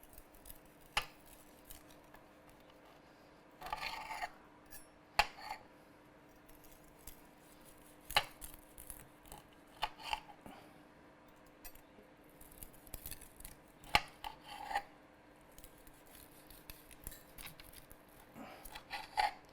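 A knife slices through cooked pork humba on a board with sporadic sharp clicks and taps and soft cutting rasps, spread out and quiet, with no talking.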